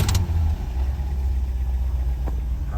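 A 1967 Lincoln engine idles steadily right after a new carburetor install, with the carburetor still on its default settings. The low rumble stays close and even, with a brief clatter at the start and no talking.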